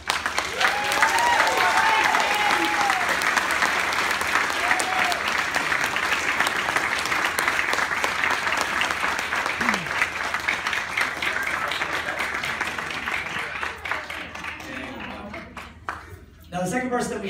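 Sustained audience applause at a martial arts award ceremony as a recipient is called up, steady and fairly loud, with a voice briefly heard and the clapping thinning out near the end.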